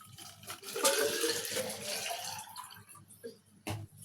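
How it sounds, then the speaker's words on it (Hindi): Homemade red sharbat is poured from a container into bottles, producing a soft liquid trickle and splash that swells and fades, with a few faint knocks near the end. "ये भी इसकी बोतलों में डाल देती हूँ।"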